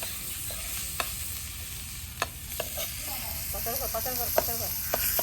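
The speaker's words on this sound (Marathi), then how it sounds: "आता कोलंबी फ्राय करायला ठेवले आता तेल थोडंसं ॲड करतो" Prawns fry in oil on a flat pan over a wood-fired stove, a soft, continuous sizzle with a few sharp pops and spatters, while faint voices murmur in the background.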